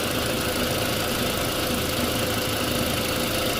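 The turbocharged 1.8-litre engine of a 2003 Volkswagen Passat idles steadily while warming up, a continuous low rumble and hum with no break and no voices; the engine has misfire and lean-condition fault codes.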